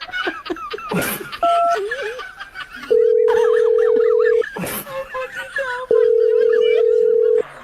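A telephone gives two long, steady tones while a call is placed, each lasting over a second. People chatter and laugh in the background throughout.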